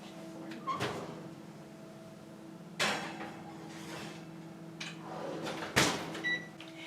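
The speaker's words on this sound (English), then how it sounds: "I'm going to pop this in the oven" An oven door is handled as a ham and broccoli quiche goes in, with three distinct clunks and thuds spaced a couple of seconds apart over a low steady kitchen hum.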